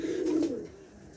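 A single low, throaty coo from a Rajshahi Giribaz pigeon, close and moderately loud, swelling and fading within about half a second against a quiet background.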